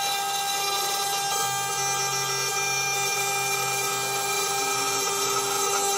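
A 6040 desktop CNC mill cuts aluminum with a steady, loud high-pitched whine and grinding tone, joined by a low motor hum partway through, running continuously with no speech.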